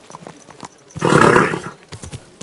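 Horse in the video game Kingdom Come Deliverance 2, giving one loud, close whinny lasting about half a second between scattered soft hoof clops.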